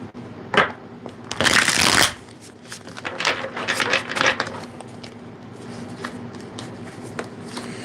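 A deck of tarot cards is shuffled by hand, with a loud riffling burst followed by softer repeated ruffling and sliding card sounds at close range.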